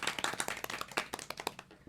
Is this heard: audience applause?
yes